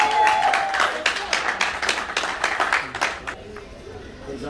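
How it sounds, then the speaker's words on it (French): Wedding audience applauding: a burst of dense clapping from a crowd that lasts a few seconds, then thins out, with voices talking over it. "Est-ce qu'on peut applaudir s'il vous plaît?"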